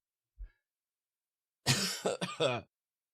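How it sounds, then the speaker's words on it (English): After a soft low thump, one person gives a sharp, close cough that breaks into a few rough throat-clearing hacks, then silence. "this cough is going to kill me"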